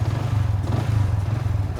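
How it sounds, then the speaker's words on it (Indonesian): Manual clutch motorcycle engine idling steadily right after being started in an open dirt field, a close, continuous low rumble with even throbbing pulses and no voices. "Nah, ini mesin motornya udah nyala kalau kalian dengar"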